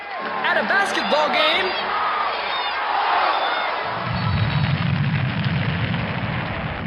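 Indoor basketball game crowd, a dense roar of cheering and shouting voices with whoops, swelling and then settling into a steady wash of noise in the second half.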